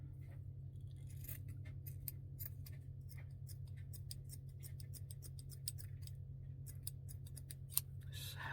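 Scissors snip through cheesecloth in a quiet room, a run of small crisp cuts in irregular rhythm, close and faint, with no talking.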